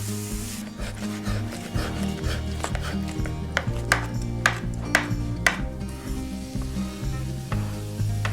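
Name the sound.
stirring softened vegetables in a pan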